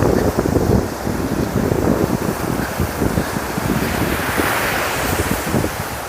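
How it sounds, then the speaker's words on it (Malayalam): Sea surf roars at Poovar on the coast where the backwater meets the sea, a loud, continuous wash of breaking waves mixed with heavy wind buffeting the microphone. "ഇതണ്ട കടൽ"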